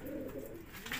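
A Kesar Deriya pigeon coos in a low, steady, close-up murmur at a pigeon-keeping loft in Faisalabad, with a brief higher sound near the end.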